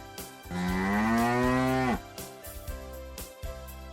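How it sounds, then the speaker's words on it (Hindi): A single long, loud cow moo with a rising, drawn-out tone lasting over a second, followed by quieter background noise. "गाय,"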